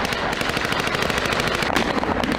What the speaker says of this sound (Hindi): हाईटेक हथियारों से लैस सैकड़ों जवान कॉम्बैट ऑपरेशन को अंजाम देने के लिए ताबड़तोड़ प्रैक्टिस कर रहे हैं, गोलियां बरसा के।